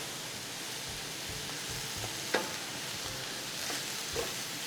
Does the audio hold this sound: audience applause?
no